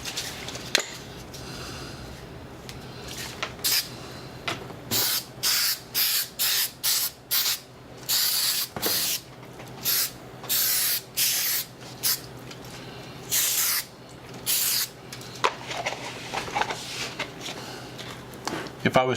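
Aerosol spray can hissing onto a sheet of cardboard in a workshop, laid down as a run of short, loud, evenly spaced bursts with brief pauses, plus a few longer sprays; a person talks between the bursts.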